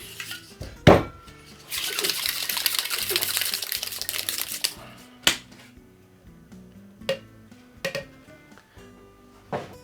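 Cream is shaken in a cocktail shaker with a coiled whisk spring inside for Irish coffee; a loud clatter opens, followed by a sustained rattling, sloshing burst and then scattered metallic clinks and knocks, with no talking.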